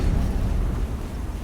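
Explosion in the video game Horizon Zero Dawn, a brief low, rumbling blast that fills the clip.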